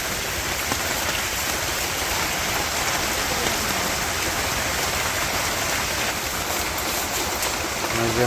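Steady, heavy rain pours down continuously, a dense hiss of water hitting surfaces with no break.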